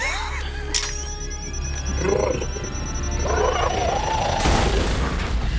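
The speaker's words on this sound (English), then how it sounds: "the innate awesomeness of explosions" Explosions in a Predator film scene boom and roar through a dense cinematic mix, with a sharp crack early on and a sustained, loud rumbling blast building toward the end.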